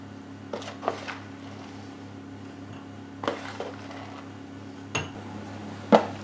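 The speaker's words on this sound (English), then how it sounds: "So we just take a spoon and divide it as equal as we can." A spoon portions grated white chocolate into six ceramic ramekins, making a few scattered, soft clinks and taps against the dishes, spaced several seconds apart with quiet in between.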